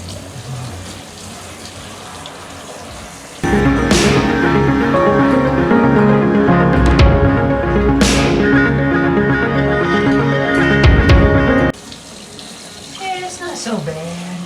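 Water from a tap runs steadily into a sink for a shower given to an old cat, a loud splashing stream that starts abruptly and stops after about eight seconds, with a person speaking softly before and after.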